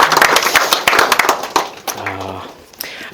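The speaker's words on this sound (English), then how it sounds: "So give yourself a round of applause, please." Wedding guests applaud at a reception during the speeches, a short burst of clapping that fades after about two seconds, mixed with some voices.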